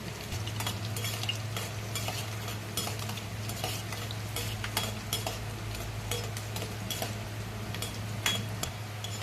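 Garlic and mustard seeds fry in hot oil for tomato pachadi, a steady crackling sizzle with scattered sharp pops and a spoon stirring and scraping the pan throughout, close and alone.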